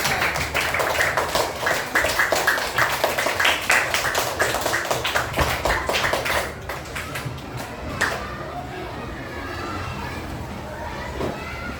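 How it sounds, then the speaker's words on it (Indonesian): Classroom audience of students clapping hands in a steady, dense patter of sharp claps that fades into quieter room noise and scattered taps toward the end. "Kasih tepuk tangannya."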